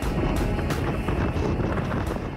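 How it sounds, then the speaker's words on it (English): Strong wind roars across the microphone on a hilltop overlook above a valley near Healy, Alaska, in a loud, constant rumbling buffet with brief gusty swells. "The wind was crazy, and it comes up over that valley there."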